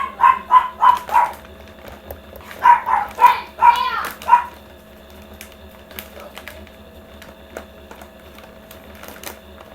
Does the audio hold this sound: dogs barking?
yes